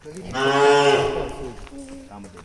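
A cow at a cow shelter gives one long, loud, close moo that rises and then fades over about two seconds, with faint background sounds after it.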